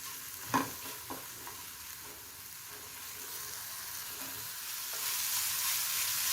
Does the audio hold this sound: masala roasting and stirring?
yes